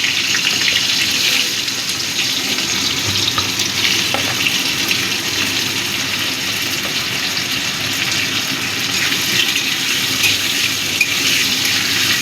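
Diced potatoes frying in hot spiced oil for a chhana curry, a loud, steady, close sizzle that holds without a break throughout.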